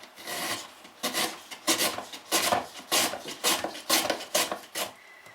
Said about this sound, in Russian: Натираем на терке огурец.